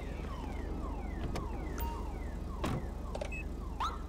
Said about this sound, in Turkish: Ulan nereden siren takıldı o adamı?